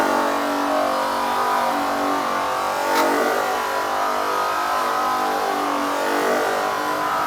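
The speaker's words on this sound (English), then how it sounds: "You always want to wear or use safety flanges anytime you're operating any airway buffing wheels." An airway buffing wheel with a steel center plate, fitted with safety flanges, polishes aluminum toward a mirror shine. A loud, steady motor whine drones throughout without pause, and no one talks over it.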